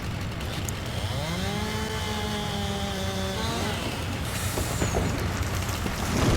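A chainsaw delimbs a felled tree in the Farming Simulator video game, its engine whining up and down in rising and falling pitches, followed by a brief hiss and a louder mechanical surge at the end.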